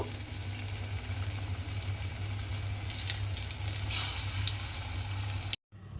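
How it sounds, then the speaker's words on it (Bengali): Eggplant slices coated in gram flour fry in hot oil with a soft, continuous sizzle and scattered crackling pops, fairly quiet, cutting off abruptly at the end. "তারপরে আমি তেলের মধ্যে এইভাবে দিয়ে দেব দিয়ে প্রত্যেকটা কিন্তু আমি এই একইভাবে ভেজে নেব"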